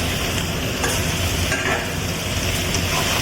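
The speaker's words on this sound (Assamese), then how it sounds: "এতিয়া আলুখিনিৰ সৈতে ধুনীয়াকৈ এনেকৈ ভাজি ল'লোঁ।" Assamese-style mutton curry with potatoes frying in a pan, a steady close sizzle with scraping stir strokes and no voices.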